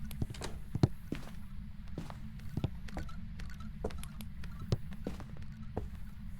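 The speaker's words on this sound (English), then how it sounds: "I can hear the ghost's footstep sounds without getting electronic disturbance" Ghost footsteps during a hunt in the video game Phasmophobia: a run of quiet, irregular thuds and taps over a constant low rumbling hum, with no voices.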